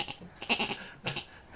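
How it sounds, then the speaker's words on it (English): A goat bleats in a few quick, wavering cries with a chuckling, laugh-like quality, fairly close and clear with no talk over it. "The goat bleats."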